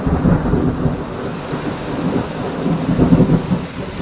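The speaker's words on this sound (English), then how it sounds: "It certainly did thunder this afternoon." Deep thunder rumbles and rolls through an afternoon rainstorm in rural Abruzzo, Italy, loud and continuous with swelling peaks over the steady hiss of falling rain.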